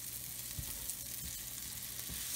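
Onions sizzle steadily in a pan as they caramelize for a mussel dish with white wine, giving a continuous crackling fry with soft low stirring thumps at regular intervals and no voices.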